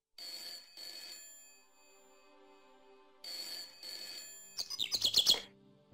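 A telephone rings in Broken Sword Director's Cut, two paired electronic trills separated by a pause, followed by a brighter fluttering chirp-like burst as the call is picked up.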